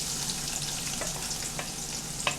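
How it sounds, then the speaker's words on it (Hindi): Sliced onions fry in hot oil inside a karahi while cooking chana karahi, giving a steady close sizzle with a few soft crackles and pops, no voices. "ये ऑयल गर्म हो चुका है, इसके अंदर अभी मैं डालूंगा ये जो प्याज हैं हमारे"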